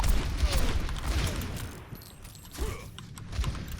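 Rapid popping gunfire from a Korean online shooter game, a burst of close shots layered over dense game noise and effects, with no talk heard.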